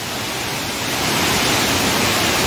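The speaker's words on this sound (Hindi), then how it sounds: "Listen the sound of water." Tons waterfall rushes with a dense, continuous roar of falling water, loud and steady, swelling slightly after the first second with no voices.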